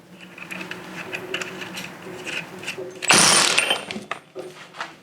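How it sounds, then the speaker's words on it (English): A nut is torqued back down on a go-kart engine after a new needle cage bearing goes in, with light tool clatter leading to a sudden loud mechanical burst about half a second long, then quieter handling noises. "so we'll put the nut back on and torque it back down"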